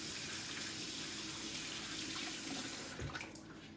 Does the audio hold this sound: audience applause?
no